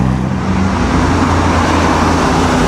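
A vintage Lancia drives past during the Mille Miglia road race, its engine a steady, fairly loud roar that stays close and even throughout with road noise around it and no voices.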